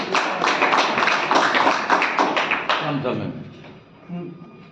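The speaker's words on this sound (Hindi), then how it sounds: "जोरदार तालियों के साथ स्वागत करें।" An audience at a Bharat Raksha Dal meeting claps loudly to welcome a speaker, a dense burst of applause that holds for a few seconds and then thins out and fades.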